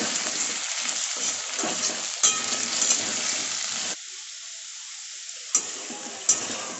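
Chunks of potato and taro stir-fry with salt and turmeric, a loud, close sizzle with spatula scrapes, dropping to a quieter hiss midway before sharp stirring knocks return.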